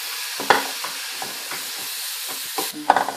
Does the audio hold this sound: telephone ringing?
no